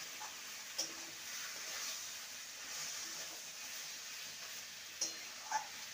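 Vine spinach and vegetables cook in a pan with a steady, soft sizzle and hiss, and a few faint clicks of a utensil touch the pan.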